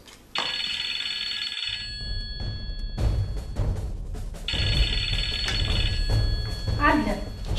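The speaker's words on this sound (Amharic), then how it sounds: "ሂጂ አንቺ ስልኩን አንሺው" A telephone rings indoors in two bursts of a bright, trilling bell, the first short and the second longer, with room noise and voices around it.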